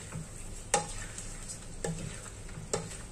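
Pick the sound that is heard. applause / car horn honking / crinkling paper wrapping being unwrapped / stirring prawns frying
stirring prawns frying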